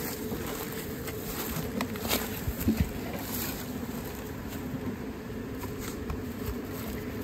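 Honeybees buzzing around hive frames during beekeeping work, a steady dense hum with occasional louder passes of single bees close by, plus faint handling noise.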